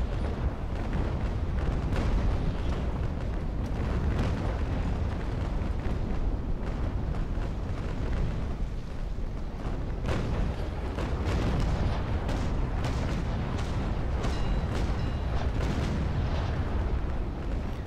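Ship cannon fire in the age-of-sail naval combat video game Naval Action, during a large fleet battle of Trafalgar with 40 ships, a dense, continuous roar of booming broadsides and blasts, loud and sustained throughout.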